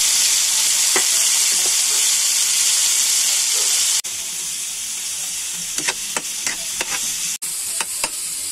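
Onion and tomato dropped into hot oil in a pan, a loud hiss that dips after a few seconds and then settles into a continuous sizzle broken by a series of sharp stirring clicks.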